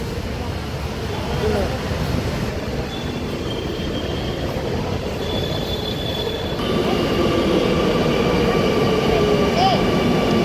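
A Kochi Metro train near Edappally, heading toward Aluva, rolls steadily along the rails with a continuous loud rumble and faint wheel squeal, growing slightly louder toward the end.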